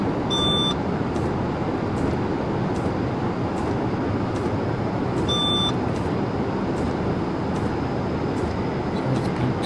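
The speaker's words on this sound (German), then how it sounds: "jetzt blinkt hier leider die Zupp etwas oder piepst die Zuppi etwas" PZB safety beeps sound twice in a Train Simulator 2020 cab, each a short high-pitched tone spaced about five seconds apart, over a loud steady rumble of the moving train.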